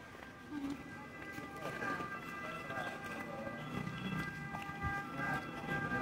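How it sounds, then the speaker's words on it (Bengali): A tourist train rolls along a street in Rome, its steady rumble and mechanical hum running continuously through busy outdoor city noise, with a person talking over it. "এই যে টুরিস্ট ট্রেন আসতেছে, কি সুন্দর।"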